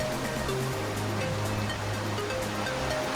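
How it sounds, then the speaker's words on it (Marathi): Continuous roar of rushing water at Devkund waterfall, dense and steady, with no pauses and no voices. "हे धबधब्याचं दृश्य तुम्ही पाहताय एवढं पाणी कंटिन्युअसली या ठिकाणून खाली येते"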